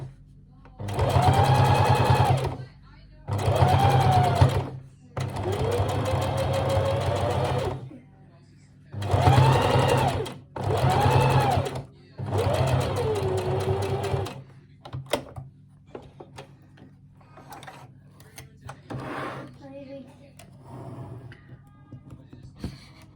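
A sewing machine top-stitches a wool coat in six loud, close bursts of rapid whirring, each a second or two long and separated by short pauses, followed by quieter handling noises and faint clicks.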